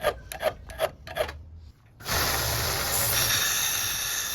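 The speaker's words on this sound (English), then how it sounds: "Using a round file to get into the junction there where the blade and the handle meet" A round file rasps at the junction of a steel Nakiri-style knife blade and handle, first in a few short separate strokes, then in a long continuous loud scraping run.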